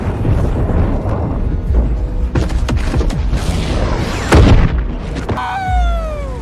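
Cannon and artillery fire at sea in the animated film Predator: Killer of Killers: loud, dense battle din with repeated heavy booms and blasts, one especially strong hit near the end followed by a descending whine.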